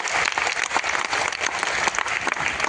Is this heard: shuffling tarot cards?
no